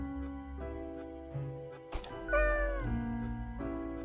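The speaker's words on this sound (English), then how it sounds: "Now, the cat comments." A cat meows in the video game Death and Taxes, a single drawn-out, falling meow rising clearly over soft game background music.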